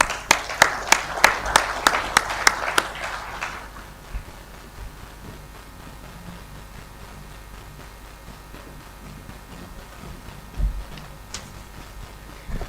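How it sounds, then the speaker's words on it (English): Audience applause welcoming a speaker onstage at the India Advantage business summit, heard as a brief burst of about ten sharp, distinct claps over the first few seconds, then fading into quiet room tone with a faint bump later. "let's give a big round of applause and welcome Chandrakant"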